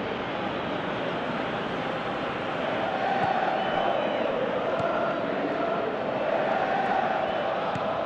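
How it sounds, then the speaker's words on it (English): Crowd chanting in the football video game Pro Evolution Soccer at a UEFA Conference League round of 16 match, a dense, steady roar of many voices swelling slightly midway, with occasional faint talk over it. "Crowd calling for him to shoot."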